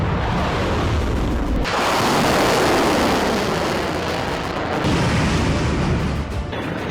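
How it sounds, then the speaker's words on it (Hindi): Iranian missile strike explosions over Israel, a loud roaring rumble of blasts that swells, holds, drops briefly and surges again, with no talk. "पहली बार डांसिंग मिसाइल से प्रहार। इजराइल के आसमान में नाचती हुई तबाही।"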